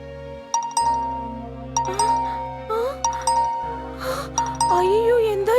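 A phone sounds repeated bright message notification chimes, several short dings in quick succession, with voices talking and reacting between and over them.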